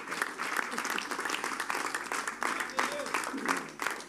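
Audience cheering and applauding at an elders' banquet with gospel music, a dense, continuous wash of clapping with bursts of cheers throughout, loud and close.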